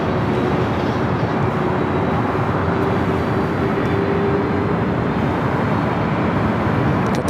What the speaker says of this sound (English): British Airways A380 Super